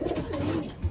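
Racing pigeons, stock cocks and hens, coo in their loft with low, rolling throaty calls overlapping close by, one soft deeper coo near the end, and no talking.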